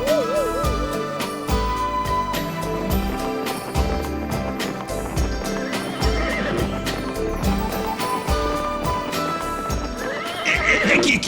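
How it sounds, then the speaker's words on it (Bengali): A horse neighs and whinnies in an animated Gopal Bhar comedy scene, with shrill wavering cries near the start and again near the end, set against continuous loud background music with some hoof clip-clop. "আমার ঘোড়াটা এমন চেঁচাতে শুরু করলো কেন?"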